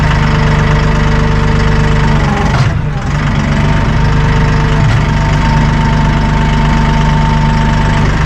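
The diesel engine of a Massey Ferguson 1840M compact tractor runs loudly and steadily nearby with a deep, even rumble and a brief dip in the middle.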